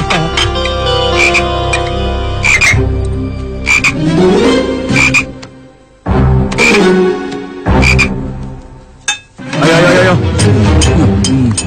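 A frog croaks loudly and close, in several long, rasping bursts separated by brief pauses, with no talk over it.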